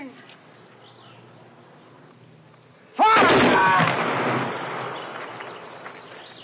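A firing squad's rifle volley in the Kubrick film Paths of Glory: after a quiet stretch with faint birdsong, one loud, sharp crack of simultaneous shots rings out and then fades slowly as a long echo.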